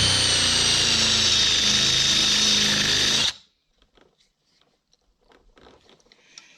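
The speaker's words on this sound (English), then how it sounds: "Might just end up just drilling the damn thing out completely without using an easy out." Power drill grinds loudly into a stuck bolt in a Cadillac 472 cylinder head, a harsh whirring bite for about three seconds that cuts off abruptly, followed by faint scattered clicks and handling noises.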